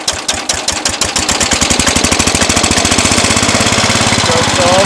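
Cub Cadet 107 lawn tractor engine starting cold at half choke, a loud rapid chugging that settles into a steady running rhythm close to the microphone.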